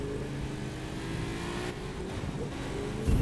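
A Ford Taurus engine in a racing video game revs steadily at mid pitch, loud and close, with a sharper burst of revving at the very end.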